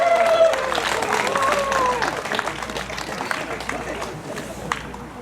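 Clapping from a party crowd at a fishermen's day style party in a harbour tavern, steady and fairly close, with chatter and voices mixed in throughout.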